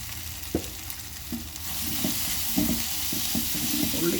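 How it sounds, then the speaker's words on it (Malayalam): Curry leaves, onion and ginger sauté in a pan for a chicken liver fry, giving a steady sizzle with several sharp spoon scrapes and taps scattered through, growing slightly fuller partway in. "കരിവേപ്പില വഴന്ന് വരട്ടെ. ഉള്ളിയും ഇഞ്ചിയെല്ലാം വഴന്നേ."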